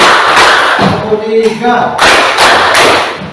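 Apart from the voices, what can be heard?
class clapping hands on command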